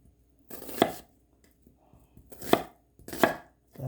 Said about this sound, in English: So this is how you cut your onions with that. Okay, cubes in cubes.